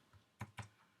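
Two quick keystrokes on a computer keyboard, faint, close clicks about a fifth of a second apart in a quiet room.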